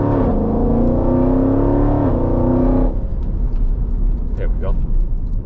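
A Jeep SRT engine revs hard under acceleration on a New York City street, heard from inside the cabin: a loud, rising drone holds for about three seconds, drops off sharply, then fades into quieter road noise.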